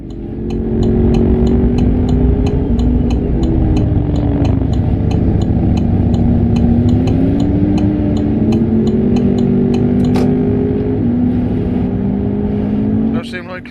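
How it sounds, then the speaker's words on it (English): The engine of a DAF XG 2021 truck driving in the Euro Truck Simulator 2 video game, a steady loud low drone whose pitch wavers gently as it moves, with faint rhythmic ticking above and a brief click near the end. "As this truck decides to move."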